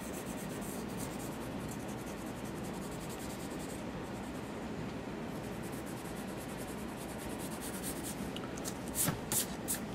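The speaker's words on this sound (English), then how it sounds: "you can come back in here maybe with another pencil and kind of give it some more detail" Pencil drawing and shading on paper for a perspective sketch: a steady, continuous soft scratching and rubbing of graphite across the sheet, close and fairly quiet, running unbroken with slightly sharper strokes near the end.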